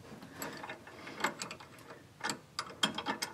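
Wrench tightening Amsoil bypass filter fittings on a 2005-2018 Dodge Ram 2500, a series of faint quick ratcheting clicks and metallic ticks, close and quiet.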